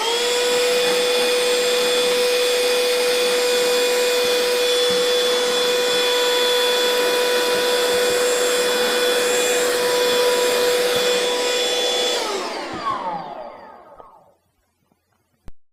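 A Bosch GAS12V 12V lithium-ion cordless vacuum whines steadily and close as it sucks up coarse spade-bit wood chips and fine sawdust, with faint rattles of debris, before the motor is switched off and spins down.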